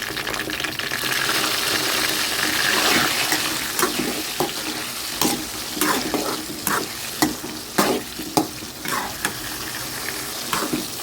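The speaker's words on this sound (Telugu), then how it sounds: "సాల్ట్, పసుపు వేసి వేయించేసుకుంటున్నాను" Brinjal pieces frying in a pan with salt and turmeric, a continuous close sizzle with repeated scraping and stirring strokes of a spatula growing more frequent toward the end.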